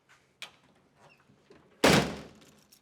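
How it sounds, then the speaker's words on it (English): A few faint clicks and rustles, then one solid, loud thunk of a 1989 Chevrolet Blazer 4x4's door slamming shut nearby, followed by a short fading rumble. "And we can shut the door."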